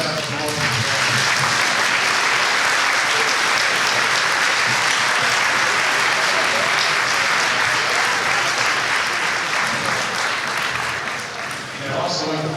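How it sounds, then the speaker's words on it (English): Dense, sustained round of applause from the audience at a fall school chorus and band concert, loud and even throughout before dipping slightly near the end. "So I can give them a big round of applause as they set up the whole"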